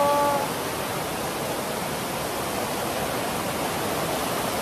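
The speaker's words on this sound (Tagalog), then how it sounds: "Tapos nakakita ko itong ilog." River water flowing steadily in Reina de Talavera, Toledo, a dense, even rush that holds at a constant level from start to finish, with no voices over it.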